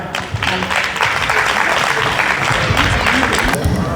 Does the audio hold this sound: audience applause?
yes